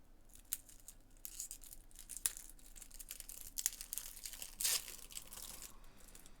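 Cardboard and plastic packaging of a Yu-Gi-Oh Speed Duel box being torn and crinkled open by hand: close, scratchy rips and crackles in uneven bursts, with a sharper tearing flurry near the end and no voices.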